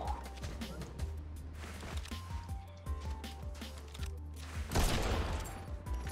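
Sniper rifle gunfire in a shooter video game, heard as sharp shots and a loud broadband burst near the end, mixed with busy game effects and a steady low hum.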